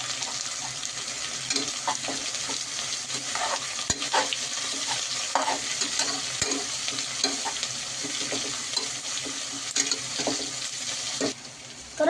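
Onion, green chili and crushed garlic fry in a pan for a rice pilaf, a steady close sizzle with repeated scraping stirs throughout, ending in a brief louder clatter.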